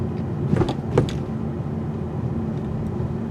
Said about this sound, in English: Let's see what happens when we take some speed bumps